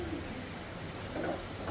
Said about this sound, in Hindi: ये देखो जरा कितनी तेज बारिश होने लगी।